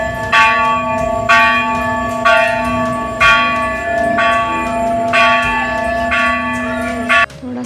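A bell at Gorakhnath Temple rings loudly at night at a steady, even pace, about seven strikes roughly a second apart, each leaving a bright ringing tone behind.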